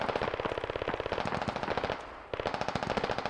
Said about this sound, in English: Got an MG3 out of the village, I guess.